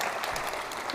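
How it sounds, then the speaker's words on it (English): An audience applauds steadily for Noah at a mosque's Qiyam night gathering, a dense, even clatter of clapping that fills the whole moment without pause. "Round of applause for Noah, please."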